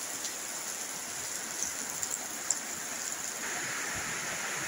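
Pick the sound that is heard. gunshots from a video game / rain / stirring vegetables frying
rain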